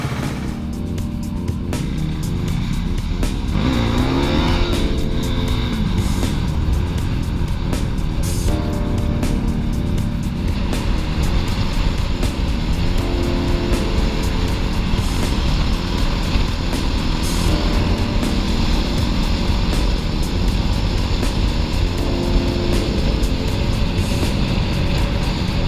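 A motorcycle engine idles steadily and loudly for the whole stretch, a constant rumbling drone without speech or noticeable revving.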